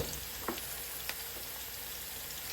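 Onions frying in fat with a pinch of salt and sugar, a steady close sizzle with a couple of faint spoon taps or pops.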